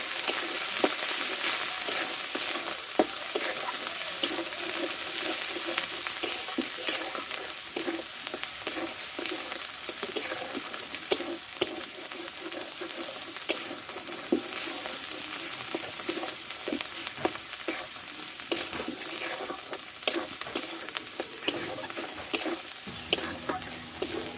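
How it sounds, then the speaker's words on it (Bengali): A spice paste of dry chilli powder and turmeric fries in oil, a steady close sizzle broken by frequent scraping and clicking strokes as it is stirred throughout. "ঝালের জন্য শুকনো লঙ্কার গুঁড়ো আর পরিমাণ মতো হলুদ এই মশলাটা একসঙ্গে ভালোভাবে কষে নেবো"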